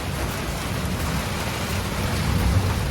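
Heavy rain pours steadily in Colombo, Sri Lanka, a dense continuous hiss close to the microphone with a low rumbling undertone and no break throughout.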